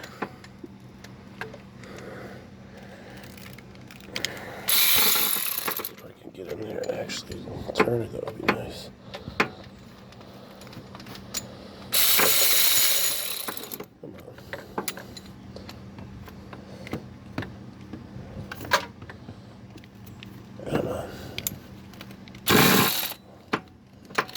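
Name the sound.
ratchet turning bolts on a Toyota RAV4 V6 engine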